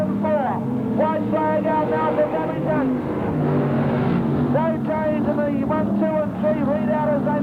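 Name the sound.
sprint cars racing on a speedway circuit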